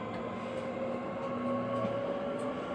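National Rail train running, a steady low rumble with a humming tonal drone and faint periodic clicks, continuous and fairly close, with no voices.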